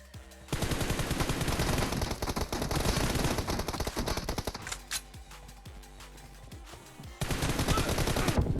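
Bursts of rapid automatic gunfire in PUBG Mobile, a long loud volley, a short quieter pause with scattered shots, then another dense burst near the end, no talk.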